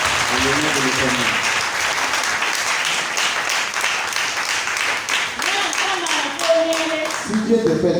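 A Sunday church congregation claps loudly and continuously, with voices cheering and calling out over the applause and a singing or shouting voice rising near the end.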